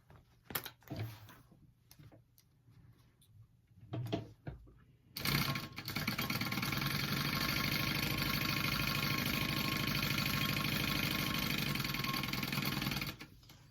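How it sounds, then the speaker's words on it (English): Sewing machine stitching two fabric pieces, right sides together, at a quarter-inch seam for a diamond clutch wallet, starting after a few handling clicks and then running as a loud, steady, continuous whir until it stops. "And then you're going to sew that together at a 1/4 inch seam allowance."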